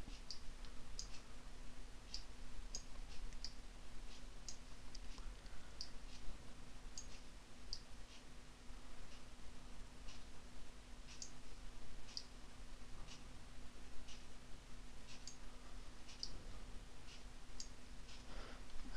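A computer mouse clicks repeatedly while working in Photoshop, giving faint, evenly spaced clicks over a steady low electrical hum, with no talking.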